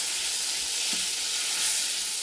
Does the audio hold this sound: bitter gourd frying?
yes